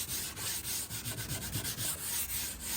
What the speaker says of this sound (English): So I'm just going to use the 240 sandpaper.